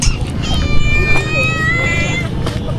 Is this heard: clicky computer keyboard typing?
no